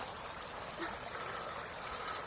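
Clear mountain water in a stream at Rusca Montana flows in a steady, soft, continuous wash, close by and alone.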